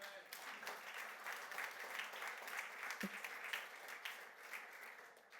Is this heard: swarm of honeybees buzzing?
no